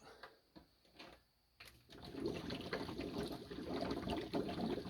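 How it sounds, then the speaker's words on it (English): A repaired canister filter on a turtle tank starts up, pushing air and then water through. A few faint knocks and trickles give way to a steady, close rushing gurgle of flowing water. "Pushing all the water out of the filter."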